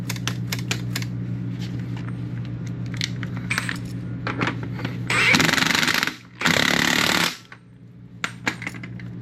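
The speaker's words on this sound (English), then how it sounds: "And then once you tighten this nut though, it tightens up somehow." A Kawasaki ZX6R's chain adjuster nut being tightened by hand with a metal tool: close, quick clicking ratchet-like ticks and small metallic taps, with two brief bursts of louder broadband scraping noise.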